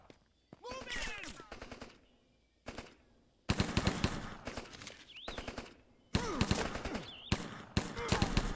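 Gunfire in the Rambo video game: several loud bursts of automatic fire break out between quieter gaps, growing dense toward the end, with voices shouting in the pauses.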